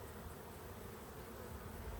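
Honey bees hum in a steady, faint drone during a full hive inspection, a low continuous buzz with no voices over it.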